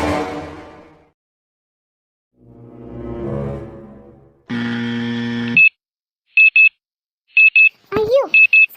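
An alarm clock in a Malayalam animated cartoon rings in a household scene, sounding as bursts of sharp, repeated electronic beeps in quick pairs after a stretch of voices and a loud sustained tone.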